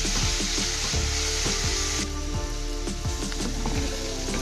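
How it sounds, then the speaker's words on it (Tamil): Onion and green chilli frying in salted oil for tempering leftover rice, a loud close crackling sizzle throughout with rhythmic scraping strokes of a spatula stirring the pan. "இதை நல்லா நம்ம ஃப்ரை பண்ண ஆரம்பிச்சிடலாம்."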